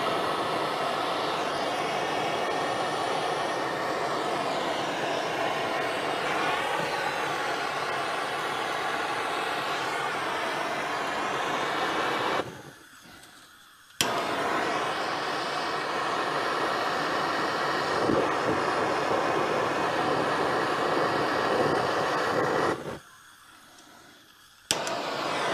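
A Holden HK car engine nearly out of fuel runs with a steady droning roar that twice drops away abruptly to near silence before catching again.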